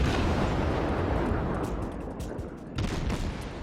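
Shells slam into an enemy destroyer during a naval battle video game, producing a dense, loud rumble of overlapping blasts and bursts, with a sharp fresh volley near the end.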